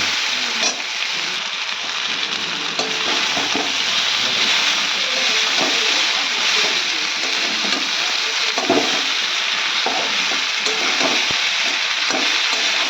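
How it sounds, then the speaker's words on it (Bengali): Boiled chowmein noodles poured into a hot pan with crushed pepper and stir-fried, a continuous close sizzle with repeated scraping and tossing strokes across the whole stretch, no talking. "এবারে এর মধ্যে চাউমিনটা ঢেলে দিচ্ছি"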